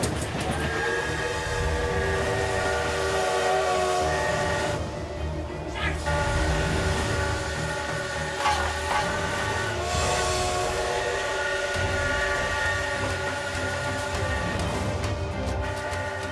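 Train running on rails while escaping the Berlin Wall, a continuous rumbling roll with metallic squeals and tonal whines, a horn-like tone rising over it partway through, steady and close.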